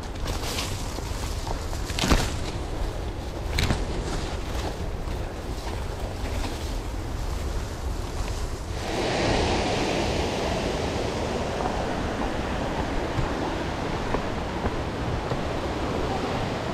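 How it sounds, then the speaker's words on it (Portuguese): Waterfall at a cascade and cave site along an adventure race route, a steady broadband roar of falling water that grows louder and fuller midway, with some wind buffeting on the microphone near the start. "Cascata e caverna dos bugres."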